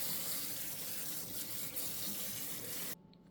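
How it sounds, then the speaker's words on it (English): Tap water runs steadily at a kitchen sink, pouring over rice in a strainer as it is rinsed, a continuous loud splashing hiss that cuts off near the end. "rinse it out with some water."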